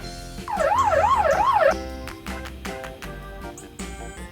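A police car siren wails in a rising and falling sweep, loud and near, for just over a second and then stops abruptly as music continues underneath.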